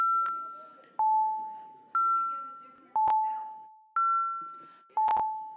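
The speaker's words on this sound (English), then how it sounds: "Those bells are really annoying, aren't they?" Electronic ding-dong chimes sound in a city council chamber, six two-tone strikes about one second apart, each ringing clearly then decaying, loud and close with faint murmuring in the background.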